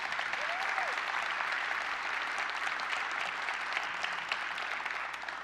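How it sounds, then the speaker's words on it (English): Sustained applause from a conference audience at a developer day keynote, steady and dense clapping filling the hall throughout with no pauses. "Let's give them a big round of applause."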